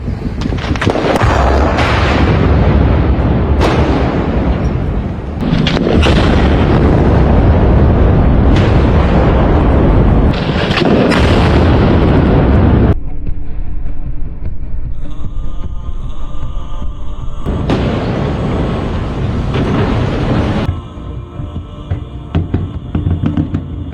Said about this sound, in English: perfectly placed and precisely timed explosions caused the bridge to collapse as one unified structure